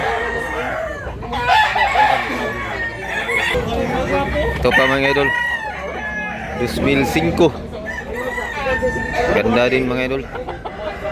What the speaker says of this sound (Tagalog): Ang gandang manok.